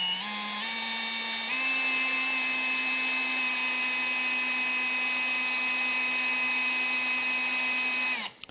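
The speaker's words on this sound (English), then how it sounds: "Nice slow speed on a drill when you're doing something like this." A drill whines steadily at slow speed while boring into a soft brass car badge for a Rolls-Royce, a sustained tonal hum that steps up slightly in pitch early on, holds, then winds down at the end.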